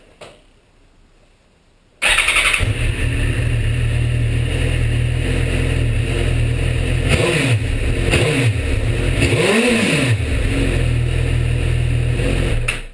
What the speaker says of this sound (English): This is the standard Suzuki GSX-R1000 L1, I think this is, with the two big boxes on the end. And this is what she sounds like standard.